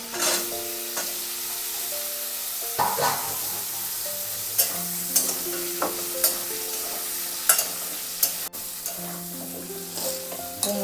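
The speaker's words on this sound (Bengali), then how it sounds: "এবার দিয়ে দেবো কুমড়োটা।" Pumpkin and fried potatoes sizzling in a pan, with steady frying hiss and repeated spatula scrapes and taps as the pieces are stirred, close and alone.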